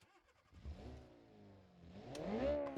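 Loud exhaust from a Group B-style rally car in the BeamNG game, the engine revving up and down in rising and falling sweeps, close and alone with no talk.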